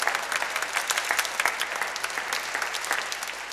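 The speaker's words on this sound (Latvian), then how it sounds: "Aplausi viņiem!" Lively audience applause at a televised awards gala, dense clapping with distinct sharp claps standing out, continuous and fairly loud with no voices.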